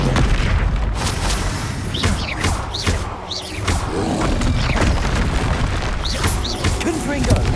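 Confringo fire spells explode repeatedly during Hogwarts Legacy combat, with loud booming blasts and rushing whooshes that come one after another. Voices are heard between the impacts.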